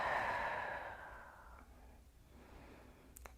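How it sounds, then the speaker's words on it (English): A slow, deep breath exhaled audibly during a qigong session, a soft airy sigh that fades away gradually into near-silence, close and quiet. "And take a nice deep breath."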